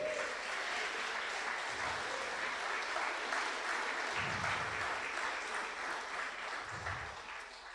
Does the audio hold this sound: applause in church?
yes